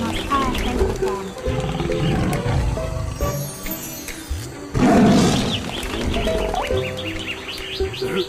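A tiger roars among a busy mix of chirping birds and other jungle sounds, with the loudest surge near the middle. The layered backdrop stays dense and constant throughout.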